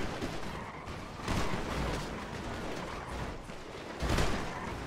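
Gunfire and booming shots in GTA V, with dense bursts and a couple of heavier blasts near the start and end over a steady noisy battle background.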